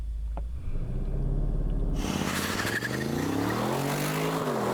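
An Aston Martin launches from a standstill and accelerates hard, its engine note rising in a loud roar that climbs steadily as the car pulls away close by.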